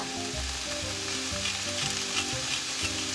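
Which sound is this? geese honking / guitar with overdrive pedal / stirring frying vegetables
stirring frying vegetables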